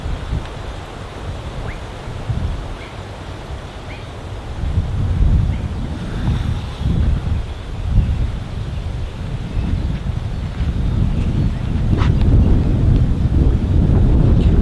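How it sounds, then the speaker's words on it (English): Steady roaring wind buffets the microphone over a dense wash of falling water, loud and continuous with gusts swelling throughout. "It's starting to pour rain. Wind is, it's really awful weather."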